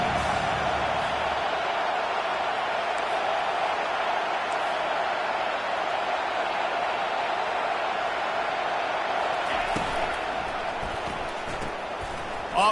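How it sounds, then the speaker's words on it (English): Football stadium crowd on third down, a broad, steady roar that holds loud and unbroken throughout, with scattered claps and shouts poking through. "Third down, and this crowd will blow out a vocal cord to help this defense."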